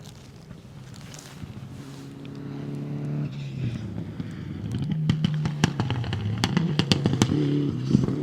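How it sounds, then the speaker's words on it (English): A Mitsubishi Lancer rally car on a public-road special stage in Happy Valley, Canterbury, approaches from a distance, its engine note rising and growing louder with rapid gear-change pops and revs as it nears. "Car 13 goes through David Clearwater from Christchurch in the Lancer"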